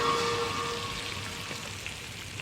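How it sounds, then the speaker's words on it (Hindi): Breadcrumb-coated fish shallow fries in a pan, giving a soft, steady sizzle that stays faint and even for a couple of seconds, with no voices. "तो मैं तब से ऐसे ही शैलो फ्राई करती हूँ"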